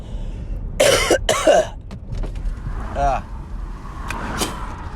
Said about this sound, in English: That was not a sick cough.